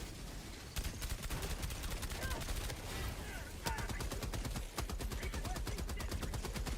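Grenade launcher fire in the video game Helldivers 2 lands as a dense, rapid barrage of sharp bursts and booms that crackle almost continuously and stay loud throughout.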